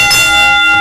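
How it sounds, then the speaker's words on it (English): Wrestling ring bell rung at a pro wrestling match, a sharp metallic clang ringing on as a sustained bright tone with steady, loud overtones. "The bell has been rung more than twice already"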